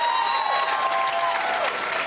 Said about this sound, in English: can we get a round of applause for every single one of our finalists tonight?